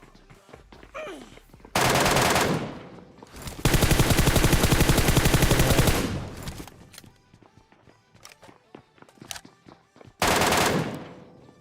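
An Mk14 rifle fires in PUBG Mobile, with several loud sustained bursts of rapid shots broken by pauses of scattered quieter shots and footsteps.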